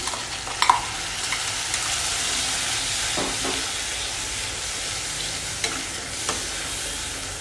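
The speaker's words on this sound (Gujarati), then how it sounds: "હવે આપણે જે ગ્રેવી તૈયાર કરી હતી એ ઉમેરી દઈશું" Prepared gravy added to a dal khichdi tempering in a hot pan, a steady bright sizzle and hiss throughout with a few clinks and stirring scrapes, no talking.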